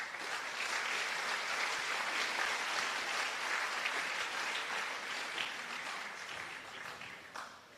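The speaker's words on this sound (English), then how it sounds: "I would like us to give him a round of applause" An audience applauds at the opening ceremony of a FINA junior open water swimming championship, a steady, moderately distant wash of many hands clapping that lasts several seconds without talk.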